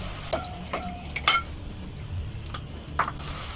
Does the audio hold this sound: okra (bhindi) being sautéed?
yes